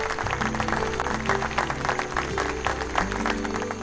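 An audience claps in welcome for a guest at a small function, a dense burst of applause heard close and steady for a few seconds over a musical backing.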